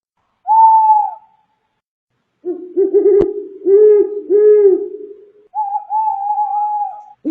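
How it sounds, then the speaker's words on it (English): Owl hooting heard in several clear, loud calls: a single hoot, then a cluster of lower, pulsing hoots, and a final drawn-out call, with silent gaps between them. "Owl."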